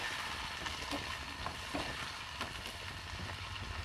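Onions fry lightly in hot oil for Jaffna-style cooking, giving a steady close sizzle with scattered stirring clicks and scrapes throughout and no talking.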